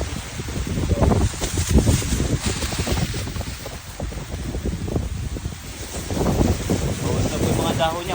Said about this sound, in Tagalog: Dahon niya, konti na lang pero malakas ang hangin